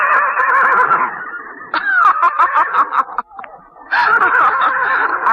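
Horses in a Sundanese-style radio drama neigh and whinny loudly and close up, in repeated bursts with a brief drop in the middle, as the animals kick and drive off attackers.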